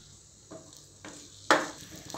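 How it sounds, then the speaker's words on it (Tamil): Chopped ginger and garlic fry in sesame oil in a pan for a jackfruit seed pepper fry, a quiet sizzle broken by a few spatula scrapes, one louder than the rest, with no speech. "நல்லா ஃப்ரை ஆகி வரட்டும்."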